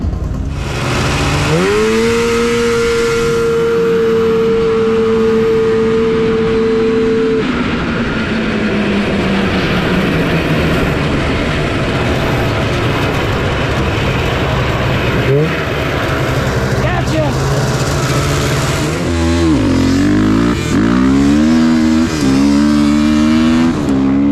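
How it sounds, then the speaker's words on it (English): Quad bike drag racing at an off-road dirt drag strip, a loud close engine holding a steady high drone, then easing off and revving through rising gear changes near the end, with no talking. "So we're gonna have some fun and race John here for a second"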